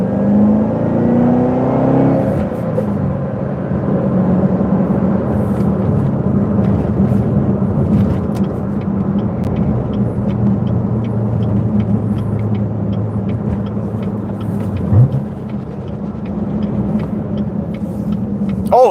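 Chevrolet Corvette C7 Z06 engine, a loud, close, steady low rumble as the car pulls away, with the pitch rising briefly near the start and a short shift near the end.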